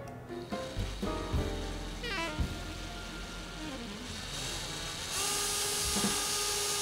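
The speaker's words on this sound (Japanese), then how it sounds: "この棚板に先にドリルで、下穴を開けときます。" A power drill bores a pilot hole into a 2x4 wooden shelf board, several short whirring bursts with rising and falling motor pitch, then a longer sustained grinding whine.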